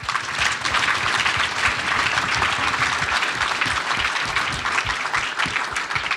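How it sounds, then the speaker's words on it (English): A crowd at an awards ceremony for cybersecurity competition winners gives a big round of applause, with dense, steady clapping that holds loud and even throughout. "big round of applause for her."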